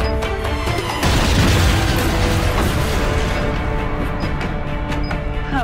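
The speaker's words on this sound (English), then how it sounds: "we made it back just in time to walk into a bomb trap" A bomb trap goes off with a loud, sudden crash, and a dense burst of noise follows for several seconds in an action scene.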